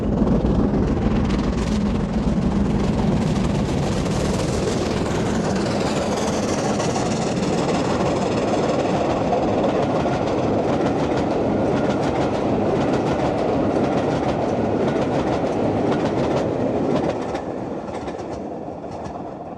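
A steam-era train runs along a preserved British railway line, a steady loud rumble with rhythmic clickety-clack of wheels over rail joints, continuous throughout and easing slightly at the end.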